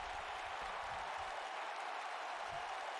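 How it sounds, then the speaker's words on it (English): A crowd in the WWE 2K19 wrestling video game applauds and cheers in a steady, unbroken wash of noise, fairly quiet and constant in level throughout, with no single voice standing out. "the crowd going wild for King Woods' kingdom"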